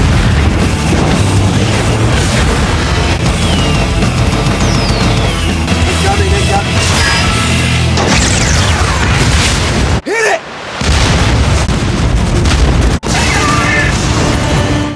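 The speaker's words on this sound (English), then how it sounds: "The powerful alien warship cannot withstand the continuous attack of armor-piercing bullets." Heavy booms and crashing blasts from the WWII battleship Missouri's guns in a film battle scene against an alien ship, loud and dense, with one brief drop in the middle.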